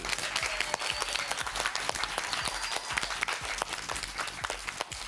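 Audience applause for a quiz-bowl judge, steady dense clapping from a crowd that holds at an even level throughout without talk.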